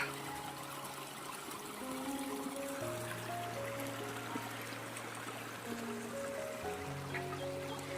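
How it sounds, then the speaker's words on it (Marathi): A village stream flowing in the open countryside gives a faint, steady rushing wash, with low tonal hums running underneath throughout. "ओढा."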